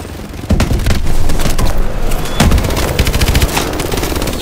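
The main gun of a vehicle firing in Call of Duty: Advanced Warfare, loud dense bursts of rapid shots with heavy booms rolling on continuously, close and alone.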